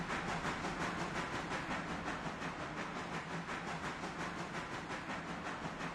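A Mikado steam locomotive hauling a heavy coal train in a railroad game chuffs steadily in a fast, even rhythm, with dense hissing and rolling noise, loud and continuous with no voices.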